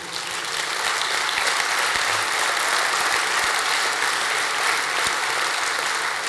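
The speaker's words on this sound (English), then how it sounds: "I hope you're applauding Reason TV, because Reason is wonderful." Steady audience applause at a FreedomFest talk, a continuous wash of many hands clapping at even, moderate loudness with no speech over it.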